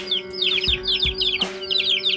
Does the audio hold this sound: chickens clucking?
yes